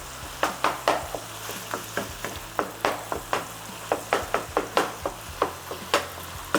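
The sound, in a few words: ground beef being crumbled and stirred while frying in pan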